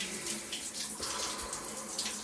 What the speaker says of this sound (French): la douche froide, putain, elle est vraiment glacée